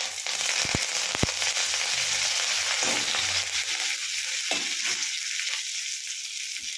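Curry leaves and dried red chillies hit hot oil for tempering, giving a loud, steady sizzle with a few sharp crackles and pops early on that thin out toward the end, heard up close with no voices.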